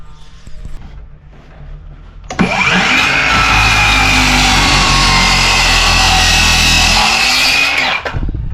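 A power saw blade cuts through a 4x6 timber for a wall and fence build: quiet rustling, then a sudden loud, close, continuous whine and grind of the blade through the wood for several seconds before it cuts off near the end.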